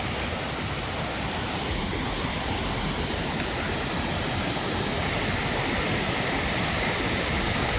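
Steady, loud roar of a big waterfall, a dense unbroken rush of falling water filling the whole clip with no voices.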